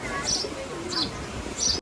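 Pigeons coo softly nearby in a short burst of low, rolling calls, with faint chirps above.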